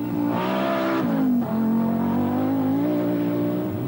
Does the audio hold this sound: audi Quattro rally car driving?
yes